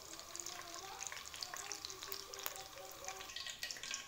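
Hot oil sizzling in a kadhai before koftas go in, a faint, steady crackling hiss with scattered small pops, quiet and close with no talking over it.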